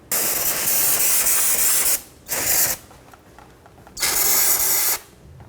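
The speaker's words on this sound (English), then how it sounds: "Clean the area down with parts clean." Parts cleaner sprayed around the rear brake caliper of a 2007-2014 Cadillac Escalade, three separate loud close hissing bursts separated by short pauses.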